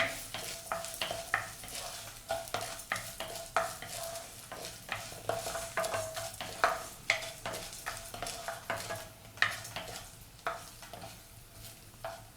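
Urad dal being roasted and stirred in a pan for keerai thuvaiyal, with steady crackling sizzle and repeated scraping strokes of a spoon against the pan, close and moderately loud throughout.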